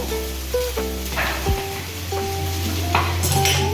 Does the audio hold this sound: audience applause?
no